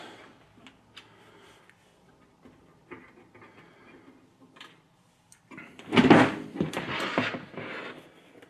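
The heavy windowed side panel of a Fractal Design Define R4 PC case, lined with dense sound-deadening foam, is handled: faint taps and scrapes give way to louder clattering and rattling metal contact near the end.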